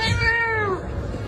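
A single cat meow, a clear drawn-out mewing cry close by, lasting under a second with no talking.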